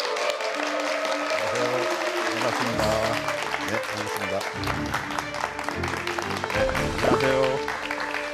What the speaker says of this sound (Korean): 여러분, 오시라 교수님을 큰 박수로 맞아주시길 바랍니다.